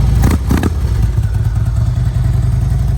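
A 2013 Harley-Davidson Electra Glide Ultra Classic with 27,000 miles idles with a steady, loud low-end engine rumble, a couple of brief clattering knocks early on, and no talking.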